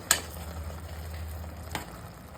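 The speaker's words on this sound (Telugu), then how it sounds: "ఇందులో మనం ఉడకబెట్టి పెట్టుకున్న పప్పును వేసుకోవాలండి కలుపుకోవాలండి" Cooked moong dal goes into a sizzling pan of pesara pappu chukkakura curry, giving a soft hiss and frying crackle with a couple of sharp clinks and a low steady simmer.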